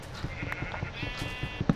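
A Minecraft sheep bleats in the game, a short wavering baa heard clearly over soft background clicks and footsteps.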